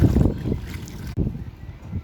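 Floodwater sloshes and splashes across a road flooded by high tide in Hagonoy, Bulacan, in two close bursts of churning water, fairly loud and near.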